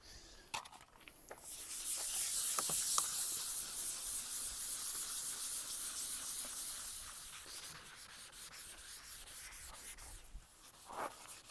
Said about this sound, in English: Yeah, let's start scrubbing away.